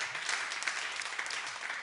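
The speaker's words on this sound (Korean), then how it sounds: "이 부분에 박수를 치실 줄 전혀 생각을 못했는데" Audience applause breaks out during a lecture by a trot-singing pastor in a church hall, a steady, dense clapping that runs evenly throughout with no voices over it.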